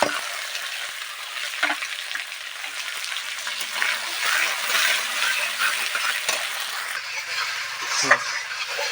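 Garlic and onion frying with cumin in hot oil, a loud continuous sizzle with occasional stirring scrapes and clinks, no talking.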